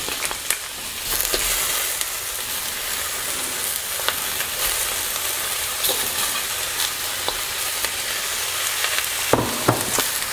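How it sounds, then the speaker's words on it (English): Crab stir-fried in a wok with ginger and garlic, a continuous crackling sizzle with intermittent scrapes and clatter as it is tossed, close and fairly loud with no talk. "we want to stir fry this just so that the crab's nicely coated with all those lovely ginger and garlic"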